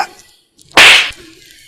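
A single sharp slap across the face in a dramatic film scene cracks loudly and close, ringing for a short moment before fading, with faint murmurs just before it.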